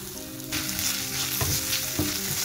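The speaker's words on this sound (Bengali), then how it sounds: "মুগ ডালটা ভালো করে ধুয়ে নিয়ে মিডিয়াম টু লো আছে একটু হালকা ব্রাউন কালার করে ভেজে নেব" Washed moong dal fries over medium-low heat in a pan, a loud, close, continuous sizzle that swells after a moment, with a couple of soft stirring scrapes and no voices.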